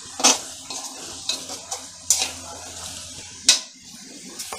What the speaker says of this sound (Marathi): वाटाणे मी तेलात हे परतून घ्यायचे